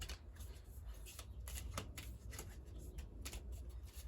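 A deck of tarot cards is shuffled by hand close up, giving quiet, continuous riffling and slapping with short rhythmic bursts.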